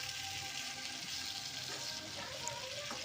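Potatoes fry in hot oil with ginger-garlic paste in a pan, giving a steady, soft sizzling hiss throughout while a spoon stirs them back and forth.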